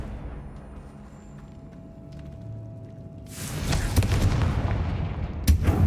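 After a quiet, humming stretch, a Confringo explosive fire spell erupts in Hogwarts Legacy, a loud booming blast with rumbling, crackling bursts that carries on to the end, where one more sharp burst hits.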